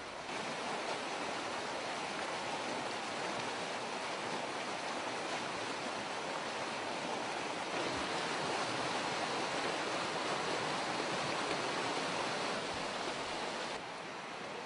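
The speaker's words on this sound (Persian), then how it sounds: "اینجا رودخانه خیافچای در شهرستان مشکین شهر است" Khiyav Chay river in Meshgin Shahr flowing steadily, a continuous loud rushing of water with no pauses and no voices.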